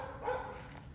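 A loose dog without a collar, roaming a neighborhood, gives a single short bark, faint and distant under low background noise.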